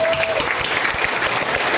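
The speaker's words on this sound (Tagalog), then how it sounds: "Okay, palakpakan natin ang Alpha Care." Audience applause for Alpha Care at a Filipino public gathering, a steady, dense clapping crowd filling the whole stretch at close range, with a brief tone at the start.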